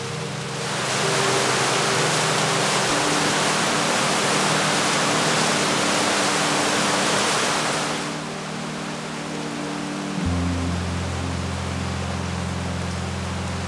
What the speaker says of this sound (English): a little waterfall tumbled through it in the middle of the cave